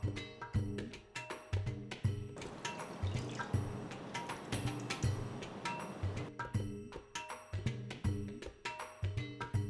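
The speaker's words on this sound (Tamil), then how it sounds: "நான் 250 ml கப்பில் 2 கப் ஊற்றுறேன்." Thick full cream milk poured from a cup into a pan for homemade malai kulfi, giving a steady trickling, dripping pour over a constant musical background.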